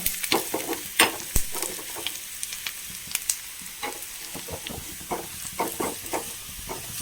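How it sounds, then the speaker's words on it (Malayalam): Crushed chilli frying in a pan with onions for a village-style curry, a bright hissing sizzle with frequent quick scrapes and clicks of a spoon, close and unbroken by speech. "ചതച്ച മുളക് ഇട്ട് കൊടുക്കാം. അതൊന്ന് മൂത്ത് വന്നോട്ടെ."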